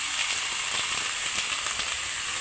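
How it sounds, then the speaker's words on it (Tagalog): Vegetables sauté in a pan with a steady, close hiss of sizzling, dotted with faint crackles throughout. "Gigisa ko, oh. Yung gulay."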